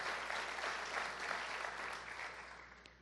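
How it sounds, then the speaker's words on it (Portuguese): An audience claps at a church program, a soft, fairly distant patter of many hands that fades gradually over a few seconds. "Dá para você aplaudir?"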